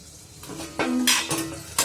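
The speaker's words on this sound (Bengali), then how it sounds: "আমি ঢাকা দিয়ে দিচ্ছি, চাটা একটু ঠান্ডা হোক" Metal lid set onto a pot of tea, a few short clanks and a ringing metallic clink, close and brief, with no speech.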